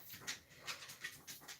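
A pet dog whimpers and pants softly at close range in a home, with short whiny bursts repeating every few tenths of a second.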